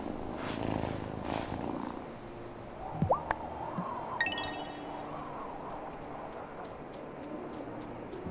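A cat purring in the video game Wylde Flowers, a soft steady rumble running under faint game music, with a few brief chirpy sound effects partway through.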